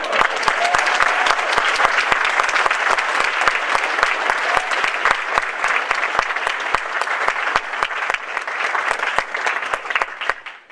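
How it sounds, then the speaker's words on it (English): Audience applause at a live storytelling event, sustained dense clapping from a large crowd, loud and steady for about ten seconds before tapering off. "round of applause for Roy."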